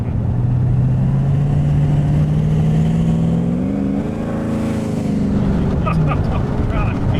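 An 800-horsepower 2013 Chevy Camaro ZL1 on a street roars loudly as it accelerates, its engine note climbing steadily in pitch, then dropping as the transmission shifts, with people talking inside over the continuous drone.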